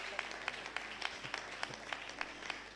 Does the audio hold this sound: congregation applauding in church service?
yes